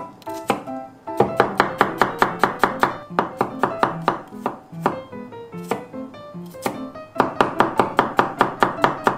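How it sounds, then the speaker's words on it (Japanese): A kitchen knife rapidly minces peeled garlic on a cutting board, sharp close taps in quick even bursts separated by brief pauses, with no talking. "これもみじん切りですね"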